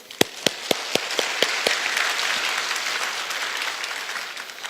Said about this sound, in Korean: 그분들 위해서 한번 박수 한번.